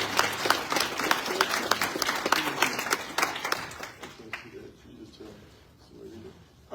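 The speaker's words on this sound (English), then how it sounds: "Let's give our wonderful president a loving round of applause." A town hall audience applauds the university president, brisk distinct claps that build and then thin out into scattered clapping and murmuring as the room settles.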